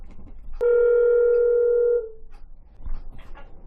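A telephone dial tone sounds steadily for about a second and a half on a call to the village hall in Cuba, New Mexico, then cuts off into faint line noise and a brief click.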